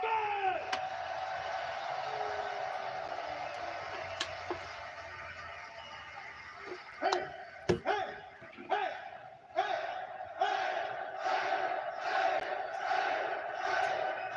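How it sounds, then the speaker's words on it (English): A wrestling arena crowd roars and chants through a television broadcast, a broad distant wash of voices that swells into rhythmic pulsing chant bursts later on. "Crowd's chanting"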